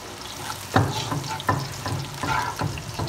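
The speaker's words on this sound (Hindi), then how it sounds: "ये हमारा गोश्त फ्राई कर रहे हैं हम" Meat for biryani fries in a pan with a steady bubbling sizzle, punctuated every second or so by sharp scraping stirs close by, with no talking.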